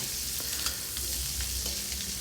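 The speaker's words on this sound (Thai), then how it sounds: "ผัดพริกหยวกเนี่ย เราจะผัดให้พอสลดนะครับ" Sliced sweet peppers stir-fry in hot garlic oil for a Thai pepper and egg dish. A loud, close, steady sizzle is broken by faint stirring scrapes, with no voices.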